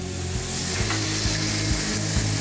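Beef steak sizzles in a hot pan for a Thai beef salad, a dense, steady frying hiss with soft periodic thumps, close and continuous without any talk.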